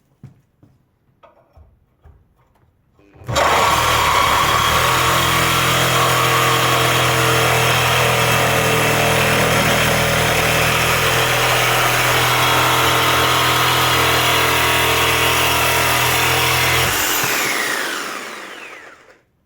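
Parkside PPFS 1250 A1 corded sabre saw with a carbide blade cutting wood about 4mm thick, a loud steady buzzing drone for around fourteen seconds after a few quiet knocks, then winding down.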